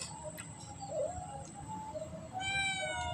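A cat meows indoors, with a short, faint mew early on and then a louder, rising meow near the end over a low background hum.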